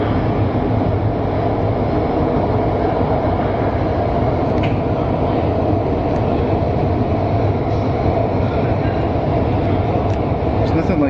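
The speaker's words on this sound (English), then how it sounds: "It's nothing like being on a train and passing trains, eh?" Montreal's new REM light rail train running on track, a continuous loud rumble and rolling rail noise from inside the car, with faint clicks and squeals, steady throughout and heard alone.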